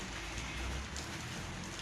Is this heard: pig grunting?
no